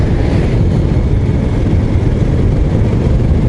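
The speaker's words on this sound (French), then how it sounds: "Encore un petit tracteur pour aller dans les vignes." A small vineyard tractor engine passing on a narrow lane along the wine route, a loud continuous low rumbling drone with steady intensity and no voices.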